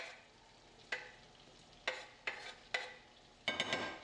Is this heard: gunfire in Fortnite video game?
no